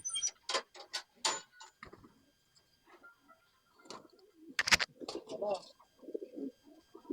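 Pigeons coo in several short bursts with gaps between, close by and fairly soft, with a faint ticking in the background.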